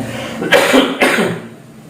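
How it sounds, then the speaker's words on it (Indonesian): A man gives two sharp, loud coughs in quick succession, close to the microphone, with no talking around them. "Mohon maaf saya memang batuk"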